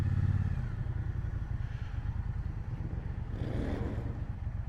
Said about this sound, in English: That bike you just heard is the hooligan race bike I was just talking about.